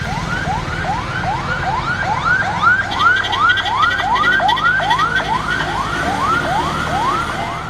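An ambulance siren wails in a fast, repeating rising-and-falling cycle, loud and close over road rumble, sounding continuously throughout in the Wayanad landslide area of Kerala.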